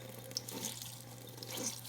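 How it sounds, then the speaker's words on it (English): Makeup brushes rinsed under a running kitchen tap, a steady close rush of flowing water splashing into the sink throughout. "You're just going to keep rinsing them under that water and squeezing until the water runs clear."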